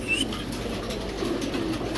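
Male pigeons coo in a low, continuous murmur close by, with a faint higher chirp early on and no talking.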